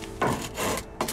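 Sawing at close range, with three rasping strokes of a saw cutting through wood in quick back-and-forth rhythm over about a second.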